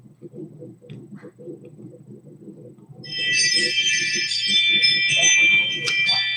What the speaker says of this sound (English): my Ring doorbell app just went off